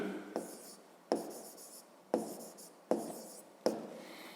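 Pen writing by hand during a fifth-grade maths exercise, heard as five sharp strokes at roughly even intervals, each followed by a soft scratching trail, close and quiet.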